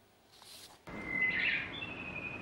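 A single bird's high, whistling chirp rings out clearly over a soft ambient hiss, brief and fairly close.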